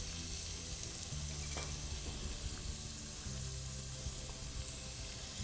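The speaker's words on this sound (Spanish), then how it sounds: "mientras se pocha la verdura" Vegetables softening in a pan give a faint, steady sizzle that carries on evenly throughout with no talking, quiet and close, with a low hum underneath.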